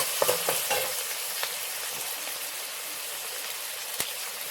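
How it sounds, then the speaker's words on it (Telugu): Thinly sliced onions and chopped green chillies fry in a pan for a chicken masala curry, giving a continuous close sizzle with a few soft stirring knocks near the start and one sharp tap later. "ఉల్లిపాయలు సన్నగా కట్ చేసుకుని వేసుకున్నాం కదా, ఇవి బాగా మగ్గాలండి."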